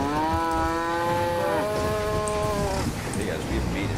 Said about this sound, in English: Sounds like a pretentious normal cow.